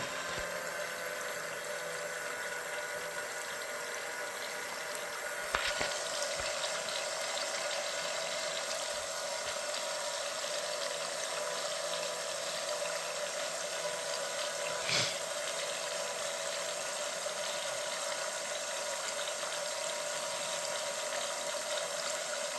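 A small liquid pump in a fluid-management device runs steadily with water flowing, a constant whirring hum with two faint clicks partway through and no talk.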